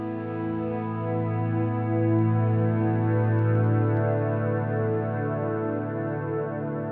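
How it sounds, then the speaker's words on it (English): Electric guitar through an Axe-Fx Black Hole reverb and multi-delay preset, a single washy sustained chord swelling slightly and ringing on evenly for several seconds, with no talking. "This has a really crazy reverb."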